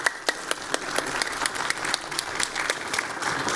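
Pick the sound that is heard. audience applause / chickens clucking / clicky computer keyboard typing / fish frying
audience applause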